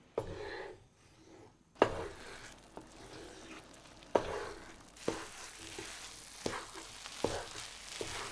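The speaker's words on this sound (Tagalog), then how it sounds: "Add the rice and keep mixing until the rice has absorbed all the coconut milk" A spoon stirs rice into coconut milk in a pan for suman malagkit, giving a soft bubbling sizzle with sharp periodic scrapes and knocks against the pan, fairly quiet and with no voices.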